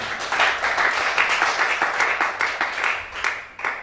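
A church congregation breaks into applause during a worship service, dense hand clapping running steady and loud for a few seconds before thinning briefly near the end.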